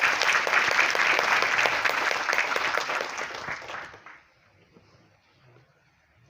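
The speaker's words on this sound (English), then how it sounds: "let us all give a big round of applause to our Honorable Minister." A hall audience claps steadily for a visiting health minister at a hospital event in Dhaka, the dense applause holding for about four seconds before tapering off into near silence.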